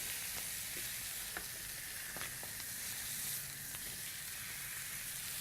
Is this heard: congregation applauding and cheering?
no